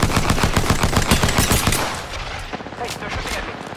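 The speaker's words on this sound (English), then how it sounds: "Hey, they're shooting at me." Rapid automatic gunfire in a military-themed video game, loud bursts of repeated shots for about two seconds, then fading into softer scattered fire and background rumble.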